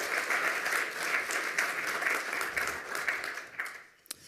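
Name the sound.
audience applause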